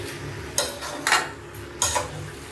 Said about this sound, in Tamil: மசாலாவும் சிக்கனும் நல்லா கலக்கணும்